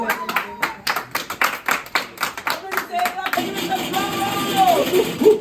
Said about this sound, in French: Est-ce que vous pouvez applaudir encore pour vous, s'il vous plaît?